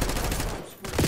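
Rapid gunfire in Call of Duty: Black Ops 6, loud automatic bursts firing close up inside a house, with a brief gap before the shooting resumes.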